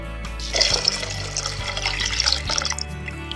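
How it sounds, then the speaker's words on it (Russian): Water pours steadily into a cooking pot for boiling wheat, a continuous close splashing and gurgling stream running the whole time with no talk. "Выливаем воду и будем отправлять ее на огонь."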